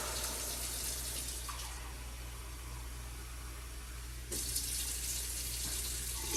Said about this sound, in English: So I let my water run a little bit to warm it up.